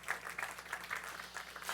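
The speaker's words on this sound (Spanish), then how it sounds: "Den un aplauso fuerte al Señor" A church congregation applauds during a sermon, a faint, steady patter of many hands clapping heard from a distance, brief and unbroken.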